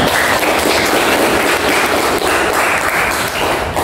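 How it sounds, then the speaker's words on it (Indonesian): A classroom of students applauds their team after a chemistry practical lesson, a dense, steady wash of clapping that fills the whole clip at close range. "Oke, tepuk tangan untuk tim."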